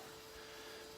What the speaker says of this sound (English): It's a power washer there, somebody's doing their garden.